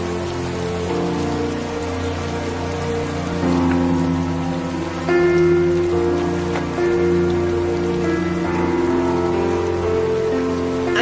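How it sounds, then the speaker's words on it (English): Steady rain falling on a surface, a dense constant hiss and patter that continues throughout, with sustained tonal notes layered over it and no speech. "I think we need to get in and out of the rain now."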